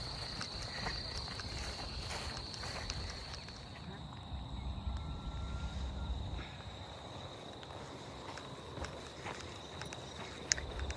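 A constant high-pitched cicada drone hums steadily in the background in a field on the Appalachian Trail, with soft rustling and footsteps nearby.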